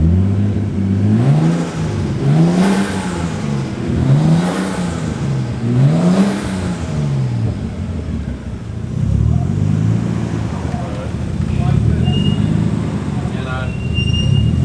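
Nissan Skyline R33 GTST engine revs repeatedly in rising and falling swells, then settles into a rougher, uneven idle. It is close and loud, with people talking around it.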